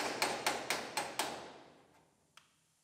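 Five quick, evenly spaced hammer blows knock a drilled roof panel loose on a Chevrolet Silverado truck, close and sharp with metallic ring, followed by silence and one lighter tap.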